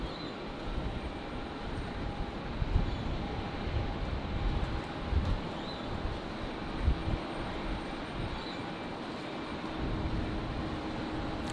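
A jet airliner powers up for takeoff from runway 19 right at Brisbane Airport on a windy day, a steady broad roar heard from a distance with wind rumble, no talk.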